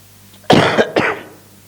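A person coughs in a short burst of two harsh, loud coughs close by, the second slightly trailing off, with no talking.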